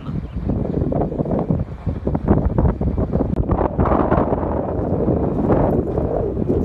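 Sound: wind blowing on a mountaintop near a wind turbine

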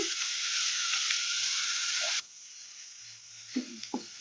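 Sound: masala pasta ingredients frying on medium flame

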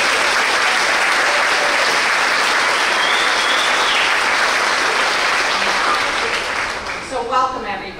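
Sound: audience applause

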